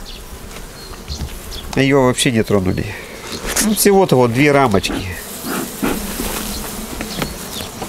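Honey bees buzzing steadily around an opened hive with frames, a constant close drone running underneath someone speaking Russian.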